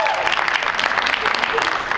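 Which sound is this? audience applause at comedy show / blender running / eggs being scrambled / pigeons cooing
audience applause at comedy show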